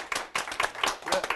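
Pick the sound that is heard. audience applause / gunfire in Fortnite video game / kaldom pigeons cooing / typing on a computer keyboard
audience applause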